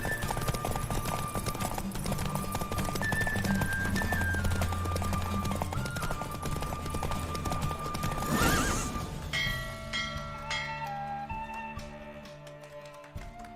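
Rapid hoofbeats of a galloping horse in a Witcher 3 horse race pound steadily, then a loud whinny rings out near the end as the hooves slow.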